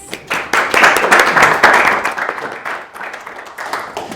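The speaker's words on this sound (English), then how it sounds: "can we put our hands together and thank James?" A crowd bursts into warm applause, steady clapping that swells and then slowly tapers off. No one speaks over it.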